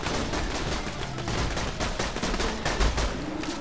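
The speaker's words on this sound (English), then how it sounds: "Oh, mine's a machine gun." Rapid machine gun fire in Borderlands 2 rattles in dense, loud bursts, overlapping with other gunshots in a continuous chaotic volley.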